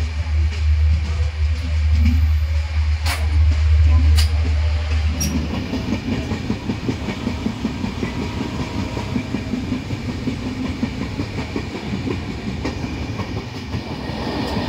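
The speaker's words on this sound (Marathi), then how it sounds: "आपली जनशताब्दी एक्सप्रेस कणकवलीवरून सुटली आहे." The Janshatabdi Express passenger train runs along rails on the Konkan route. A loud, low rumble gives way to a steady, rapid clickety-clack of wheels over track joints, heard close from on board with no voices.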